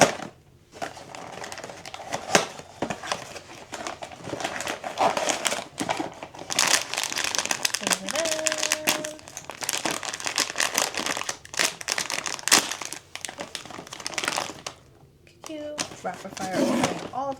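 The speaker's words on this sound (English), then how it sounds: "I have become a pro at opening these now." Pop Mart blind box packaging being torn and opened, crinkly plastic and cardboard rustling in bursts close up, with a person talking throughout.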